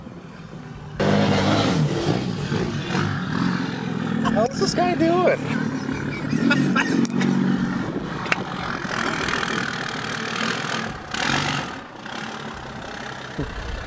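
A loud, rough 4th-generation Cummins diesel truck engine with loud exhaust idles and revs close by, a deep throaty rumble with people talking over it.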